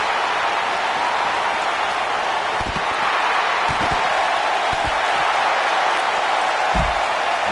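Capacity arena crowd in the WWE 2K19 wrestling game, a constant wash of applause and crowd roar with a few dull thuds of impact breaking through.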